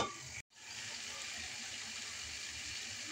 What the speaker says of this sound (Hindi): तो अब मैं इसमें पानी डालती हूँ